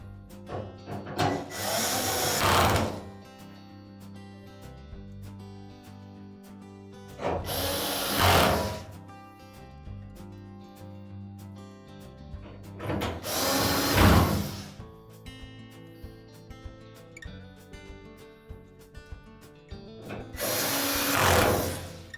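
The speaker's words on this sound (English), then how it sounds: "And we'll put the retaining screws in." A power drill drives retaining screws into the cabinet of an LG dryer during a thermal fuse repair, with four loud whirring bursts of about two seconds each separated by quieter gaps, close up and with no voices.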